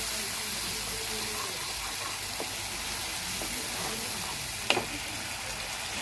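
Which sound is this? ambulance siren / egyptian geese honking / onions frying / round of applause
onions frying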